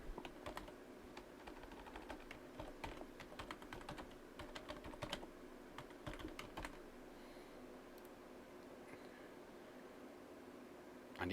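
Rapid typing on a computer keyboard as a password is entered, a close, quiet run of key clicks with a few short pauses and no talking.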